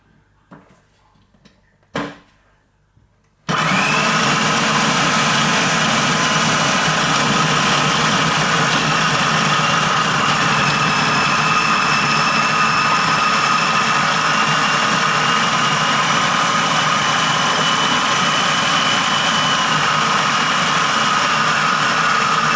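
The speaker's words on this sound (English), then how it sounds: "So now all of that lot is going to go into that mixer, and hopefully it can mix it." After a few soft handling knocks, a blender starts abruptly and runs on as a loud, steady motor whir while it blends homemade discus fish food, continuing unbroken to the end.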